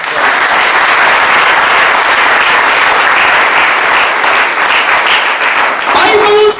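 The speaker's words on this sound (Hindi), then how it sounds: "आइए हम ताली बजाएं परमेश्वर के लिए।" An audience at a Hindi Bible study bursts into loud, sustained applause, dense clapping that stays strong throughout, with a voice speaking briefly near the end.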